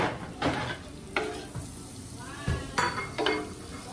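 Butter melts in a pan for buttered mixed vegetables, giving soft frying sizzle broken by several scraping stirs and light utensil knocks against the pan, close and moderately loud.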